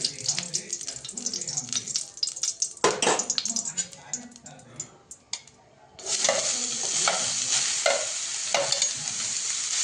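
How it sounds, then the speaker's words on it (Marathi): Grated carrots sauté in ghee over a low flame for gajar halwa, a close sizzle with stirring scrapes that turns louder and hissier partway through. "गाजर मंद गॅसवर पूर्ण परतवून घ्यायचं आहे सर्व, बदामी रंग येईपर्यंत"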